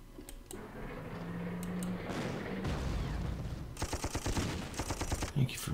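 Rapid bursts of gunfire in a WWII wargame, a sustained rattle building into a dense run of sharp repeated shots near the end, with a brief voice early on.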